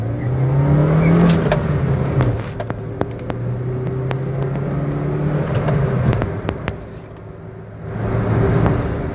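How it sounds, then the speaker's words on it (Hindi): A new car's engine revs up hard as it accelerates, rising and falling in pitch with steady power and a brief easing near the end, close and loud with no talk over it. "अब हम गाड़ी को थोड़ा सा तेज़ मैं आपको एकदम से चला के दिखाता हूँ"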